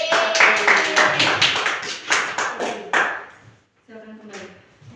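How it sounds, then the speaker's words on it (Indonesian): A classroom of students claps for a group during a lesson, a burst of rhythmic, fairly close hand claps for about three seconds before stopping, followed by a teacher's voice. "Tepuk tangan untuk kelompok."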